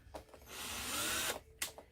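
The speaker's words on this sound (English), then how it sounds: "because it's not a very big drill" A small power drill bores a hole through the bottom of a plastic cup, giving one steady, loud whirring grind of just under a second, with brief lighter drill bursts before and after.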